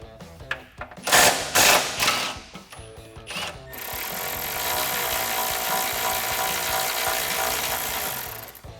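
A ratchet works 13mm bolts out of the rear exhaust hangers under a 2015-2017 Mustang GT, a few sharp clicks and knocks followed by a steady, fast mechanical whirring, close and fairly quiet.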